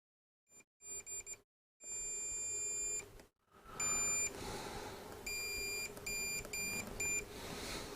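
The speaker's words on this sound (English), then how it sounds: "If I put that on buzzer, you should be able to hear that." A wire tester set to buzzer mode beeps in several bursts, some short and some held for a second or more, with gaps between them. The tone is loud and close, with nobody talking.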